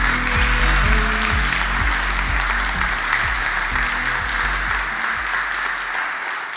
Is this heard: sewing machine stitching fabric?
no